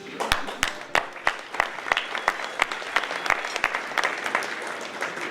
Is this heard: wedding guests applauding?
yes